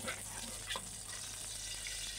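Garlic frying in a little oil in a hot wok gives a steady, close sizzle that crackles evenly throughout, with no voices.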